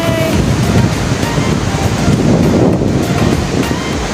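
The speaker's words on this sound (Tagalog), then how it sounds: "high tide ngayon o. Sobrang taas ng ano. Taas ng alon." Loud, continuous surf of high-tide ocean waves rolling onto the beach at Boracay, a steady broadband wash with wind buffeting the microphone throughout.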